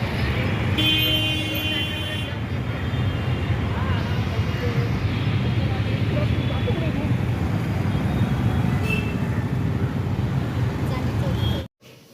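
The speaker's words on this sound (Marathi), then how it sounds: "ट्रॅफिक बघा मित्रांनो किती झाले जोरात" Heavy road traffic rolls past on the way to a wedding hall, a dense continuous roar of engines close by, with occasional horn toots in the first seconds, before it cuts off abruptly near the end.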